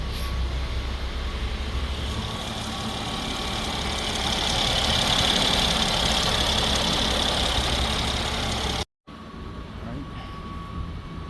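A Mercedes 276 engine running steadily after repair, a close, continuous mechanical hum with a faint high whine, briefly cut off near the end before resuming.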